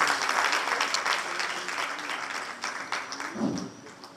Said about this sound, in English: please, a round of applause for that